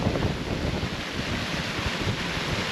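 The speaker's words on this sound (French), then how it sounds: "On vient de prendre une rafale à 35 encore." Strong wind gusts roar across the microphone aboard a sailing catamaran in rough weather, with breaking sea and surf rushing steadily underneath, loud and continuous throughout with no voices.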